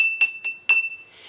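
Glasses holding different amounts of water are tapped one after another, giving four bright, ringing clinks of differing pitch that decay quickly, quiet and close in a classroom demonstration.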